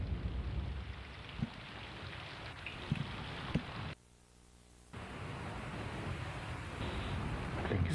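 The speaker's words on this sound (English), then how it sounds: "Because it's raining, I'm assuming." Steady rain falls in a dense, even hiss that runs throughout, with a few sharp knocks along the way and a one-second drop to near silence partway through.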